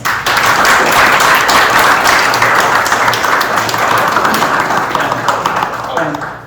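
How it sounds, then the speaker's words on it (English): Audience applause for panelists at an inter-generational community conversation event, dense and loud clapping that fills the room for several seconds before tapering off at the end. "Give them a round of applause."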